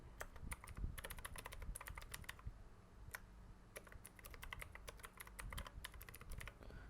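Typing on a computer keyboard, quiet close clicking keystrokes in quick irregular bursts with brief pauses, no talking.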